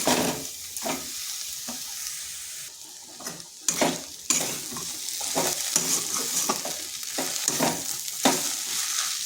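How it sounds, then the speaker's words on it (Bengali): Radish greens and lentils frying in a pan for a vegetarian ghonto, with continuous sizzling broken by repeated scraping and clattering stirs of a spatula, close and fairly loud, no talk. "এইভাবে এটাকে বেশ কিছুক্ষণ এইভাবে নাড়াচাড়া করে নিতে হবে"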